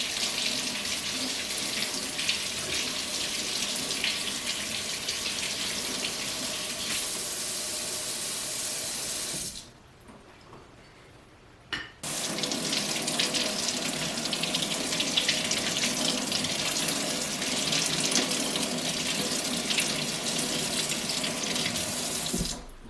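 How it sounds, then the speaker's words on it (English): A kitchen tap runs steadily over lobster tails, a loud continuous hiss of water that stops for about two seconds near the middle, then resumes to the end with no speech. "You want to run the water over the top of them, but not all around them"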